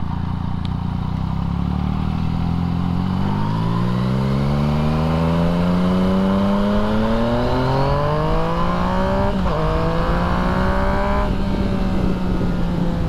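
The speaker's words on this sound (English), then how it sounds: "We're gonna put the bike in A mode for this last little bit and see how she rides." A Yamaha MT-09 three-cylinder motorcycle in A mode accelerates hard, its loud, close engine note climbing steadily in pitch with a brief gear-change dip before rising again.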